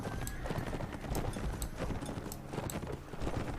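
Horse hooves gallop in the medieval combat game Mount & Blade Warband, a rapid, steady clip-clop rhythm that stays loud and close throughout, with no voices.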